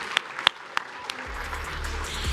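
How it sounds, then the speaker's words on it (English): At a speakers showcase, a few sharp isolated claps ring out from the audience, followed by a swelling wash of crowd noise and low rumble as the room joins in. "Give yourselves a round of applause."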